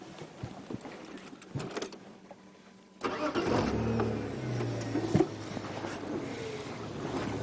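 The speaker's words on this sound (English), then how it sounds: "when I start the car you'll be deaf" A safari vehicle's engine turns over partway through, cranking and catching before settling into a steady idle rumble that carries to the end; the first seconds hold only quiet outdoor background with scattered small knocks.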